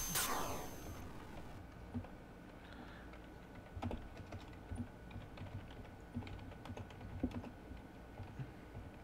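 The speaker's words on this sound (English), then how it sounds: "I'm just typing in the Discord chat for right now" Typing on a computer keyboard while chatting in Discord, a quiet, irregular run of soft key clicks with brief louder bursts.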